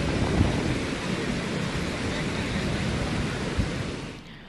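Heavy rain pours down steadily with deep rumbles of thunder rolling underneath, a dense, continuous wash of storm noise that thins out abruptly at the very end.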